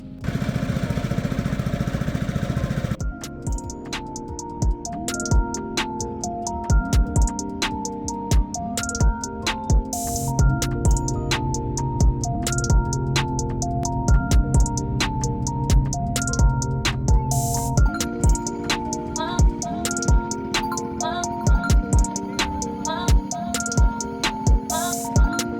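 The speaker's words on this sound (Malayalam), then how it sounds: "നമ്മുടെ തൗസാണ് കേട്ടോ നമുക്ക് വേണ്ടി വള്ളം ഓടിച്ചോണ്ട് പോകുന്നത്." A motorised shikara boat engine chugs steadily on the Kottayam backwaters, its rapid, even pulsing running close and loud for the whole stretch after a brief rougher burst at the start.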